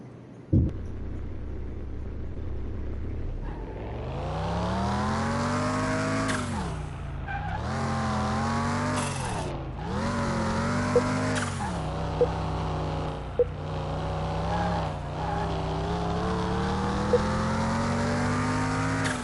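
A car in Car Mechanic Simulator 2021 drives a test track, its engine droning steadily and climbing in pitch through repeated gear shifts, with brief dips between gears and a few small clicks, loud and close with no talk.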